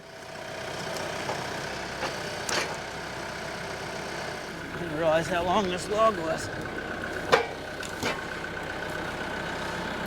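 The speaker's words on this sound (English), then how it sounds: "we'll go ahead and see if we can pull this out with a tractor" A tractor engine idles with a steady, low rumble throughout, while someone talks close by over it.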